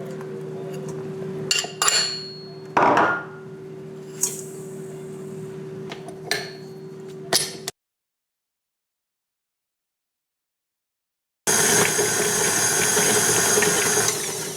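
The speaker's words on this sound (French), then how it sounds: "dans un robot, il faudra bien mélanger le sucre et le beurre jusqu'à obtenir une bonne pommade" A food processor creams sugar and butter into a soft paste for brownies; loud knocks and clatter come first, then a stretch of silence, then a steady, loud whirring motor.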